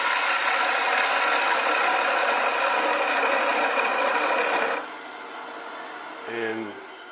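A woodturning lathe runs steadily as a gouge makes a bevel-supported cut into a birch bowl, a loud continuous whirring hiss that drops off after about five seconds, followed by a short low hum.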